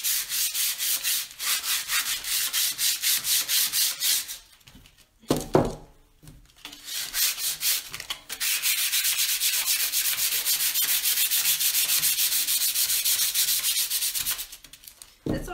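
Sanding and scuffing the surface of a glass cup by hand, a steady rough rubbing that runs in long continuous passes, breaks off briefly with a few knocks, then resumes loud and close.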